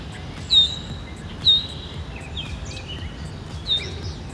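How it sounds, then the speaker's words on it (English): Birds sing in a foggy park near a parking lot, with three clear, high whistled calls and scattered chirps over a low steady outdoor hum, moderately distant. "Listen to all of this bird singing."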